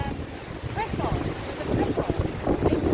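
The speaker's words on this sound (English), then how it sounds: "as you can tell it's really windy" Strong wind gusting by the meeting of two rivers in Mauritius, a steady low rumble of buffeting air on the microphone that swells toward the end, with a voice speaking faintly underneath.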